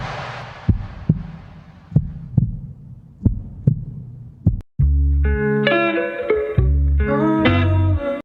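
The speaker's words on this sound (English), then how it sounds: "I actually added the heartbeats with the reverb to the heartbeat and stuff" Slow heartbeat thumps echo with a reverberant tail, about six beats, then a loud synth music passage takes over.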